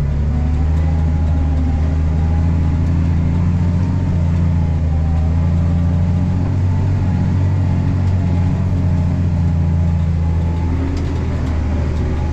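A tractor pulling a cultivator while preparing a rapeseed seedbed gives a steady, loud, close diesel rumble with a deep droning engine hum, running on evenly throughout as it picks up speed again at around 7.5 km/h.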